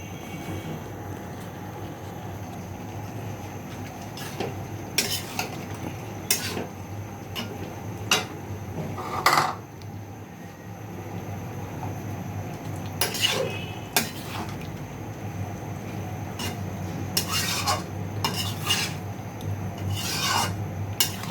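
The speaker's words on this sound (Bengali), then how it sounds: "এবার সিমটা দিয়ে দিব। সিমটা দিয়ে নাড়া দিব।" Flat beans stirred into a pot of potatoes and tomatoes for a Bengali-style vegetable dish, with a spoon scraping and rasping against the pot in repeated strokes and sharp clinks over a low simmering background, close and fairly loud.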